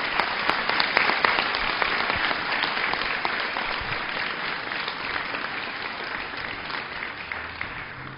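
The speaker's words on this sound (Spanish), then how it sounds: "que les da este aplauso de bienvenida" Church audience giving sustained welcome applause, a dense steady wash of many hands clapping that fades slightly toward the end.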